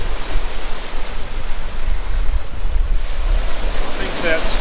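Ocean surf rolls and washes steadily onto a pebbly beach, a continuous loud roar of breaking water mixed with gusting wind buffeting the microphone, with no voices heard.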